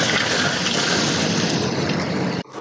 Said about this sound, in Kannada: ಈಗ ಬಿಸ್ಲರಿ ನೀರು ಹಾಕ್ತಾ ಇದ್ದಾರೆ